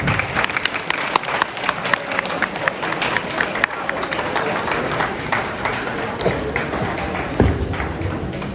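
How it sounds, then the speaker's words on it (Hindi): An audience at a Women's Day celebration claps loudly to welcome someone speaker to the stage, a steady dense patter of many hands with a few thuds and shuffles underneath, continuing for several seconds. "बहुत जोरदार ताली से स्वागत कीजिए उनका।"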